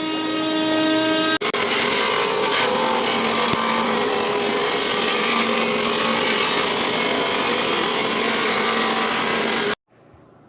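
A power machine cuts a wooden board for nightstands, a loud, steady high whine and grinding roar running for about eight seconds before cutting off abruptly, with a short spin-up at the start.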